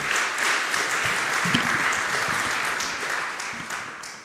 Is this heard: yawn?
no